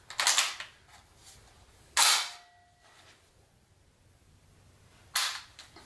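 Trigger and action clicks of a Black Aces Pro Series X semi-auto shotgun, three sharp close metallic snaps spaced a couple of seconds apart over a quiet background.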